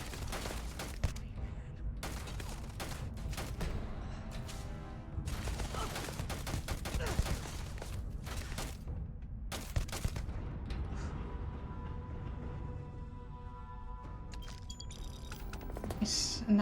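Enemy gunfire aimed at the player in a space video game crackles in repeated sharp volleys and rapid bursts, some close and loud and others thinner, scattered across a long stretch with brief lulls between barrages.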